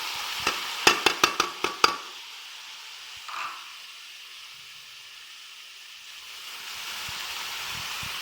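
A quick run of spoon taps on the pan leads into a steady, soft sizzle as chicken and tomatoes fry, a close, even hiss that grows a little louder near the end.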